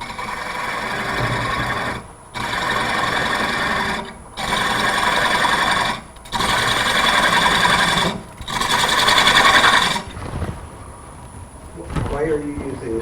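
A bedan chisel cuts into a spinning wooden chip'n'dip bowl on a lathe in five steady, loud bursts of roughly two seconds each with short pauses between, ending in quieter handling noise.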